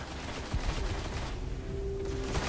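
Rapid bursts of gunfire in the video game Destiny, dense crackling shots layered over a noisy, busy game soundscape.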